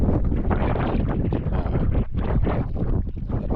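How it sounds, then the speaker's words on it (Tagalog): Strong wind at sea during ultralight casting for yellowtail barracuda roars across the microphone in loud, continuous low buffeting gusts, with no voices over it. "grabe nakalakas na hangin"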